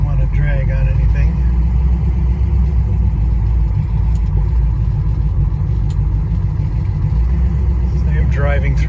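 A 1965 Plymouth Belvedere with low headers rumbles steadily at low speed while driving across a yard, the engine a continuous close drone with a person talking over it.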